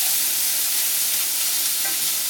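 Onions fry in a pan and are stirred, a loud continuous sizzle close by with soft scraping from the stirring and no talk.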